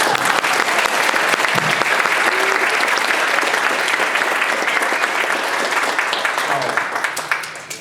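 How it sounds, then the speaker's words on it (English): Sustained, dense applause from a conference audience after a fireside chat, loud and steady for several seconds before tapering off near the end. "It's my pleasure, and round of applause."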